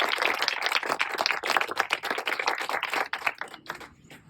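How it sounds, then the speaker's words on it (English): Audience applause at a beach dedication ceremony, close crowd clapping that is brisk and full at first and then thins out and fades over the final second. "let's conclude with a round of applause for everyone who's been involved."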